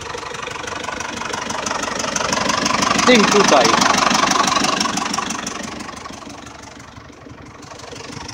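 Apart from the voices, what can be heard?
Zetor tractor engine idling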